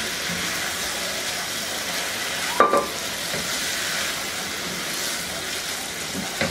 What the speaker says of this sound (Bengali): এখন আমি এর মধ্যে দিয়ে দিব 2টা পেঁয়াজ পাতা